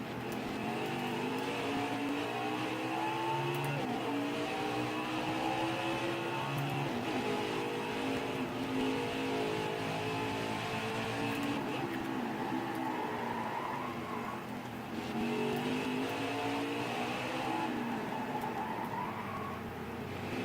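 Race cars lap the Indianapolis road course in NASCAR Heat 5, engines whining and rising and falling through gear changes as the car accelerates and brakes, steady and fairly close, without commentary.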